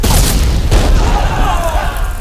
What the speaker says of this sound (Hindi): सदाशिव ने कहा है जब तक किले पर मशाल ना दिखाई दे तब तक तोपें चलती रहनी चाहिए।